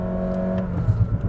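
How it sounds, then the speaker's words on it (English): A Honda City RS hatchback with the i-MMD hybrid engine revs hard and loud, a steady droning engine note with a slight wavering rise near the end, heard from inside the car. "The engine is just as loud because it is revving hard to try to charge back the battery"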